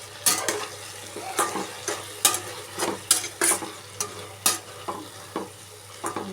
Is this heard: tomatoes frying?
yes